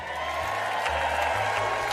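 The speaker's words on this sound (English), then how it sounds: "What the fuck are these people applauding?" Audience applause and crowd murmur from a played recording of a speech, a steady dense wash of clapping sustained at moderate level throughout.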